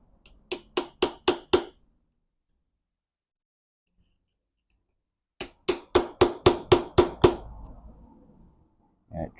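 A metal punch hammered against the counter nut on a Mazda M5R1 manual transmission during disassembly: two bursts of sharp, ringing metallic strikes, five then seven evenly spaced blows, loud and close, with a short pause between groups.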